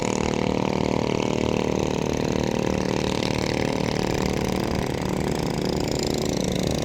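A coastal fishing longtail boat engine roars loudly and continuously on the Pattani River in the morning, a throbbing, unbroken motor drone close by with no pauses.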